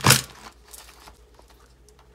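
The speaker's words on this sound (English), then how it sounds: "punch this piece of paper" A paper hole punch snapping through a sheet of paper, one sharp loud crunch at the start followed by faint rustling, heard close with no talking.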